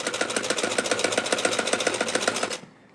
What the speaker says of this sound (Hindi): चलें अब ये सिलाई पूरी करते हैं।